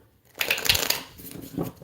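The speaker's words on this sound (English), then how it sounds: "Do some shuffles." Tarot cards being shuffled by hand at close range, a soft papery riffling and crunching that starts after a brief silence, swells over about a second, then comes back in a shorter burst, with no talking.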